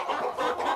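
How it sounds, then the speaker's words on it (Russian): Chickens and roosters cluck steadily inside a henhouse at a Canadian homestead, a short, busy stretch of overlapping hen calls at moderate loudness with no voices. "Эй! Петухов дофига"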